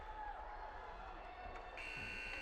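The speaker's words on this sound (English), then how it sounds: "And as the buzzer goes" A period-end buzzer at a U13 AAA ice hockey championship game in an arena, a steady electronic tone sounding under constant crowd murmur, then shifting in pitch near the end.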